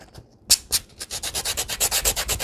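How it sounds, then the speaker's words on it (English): A sanding block scrapes back and forth over paper in quick, steady strokes, about a dozen rough rasps that get faster, close and alone. "don't be shy when you're sanding"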